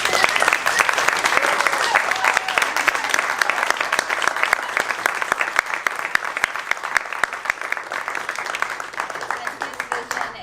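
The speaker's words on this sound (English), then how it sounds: "I'd love to give just one more really big round of applause to Bill." Audience applause at a live show fills the room, a steady dense wash of clapping sustained for around ten seconds, close and even, with a few voices faintly audible beneath.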